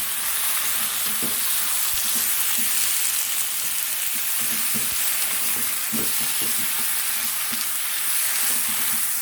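Pork rib cartilage stir-frying in a hot pan for Thai khua kling, a continuous loud sizzle with occasional scraping stirs throughout, close and without talk.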